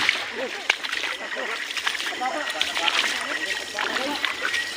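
Splashing and sloshing water as someone wades through a river, continuous irregular splashes with a rushing stream underneath, close by and moderately loud throughout.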